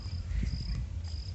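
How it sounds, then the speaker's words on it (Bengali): Crickets chirp in a steady, continuous high trill at a quiet outdoor picnic spot in Falta, with faint low rumbles underneath and no voices. "ঝিঝি পোকার ডাক"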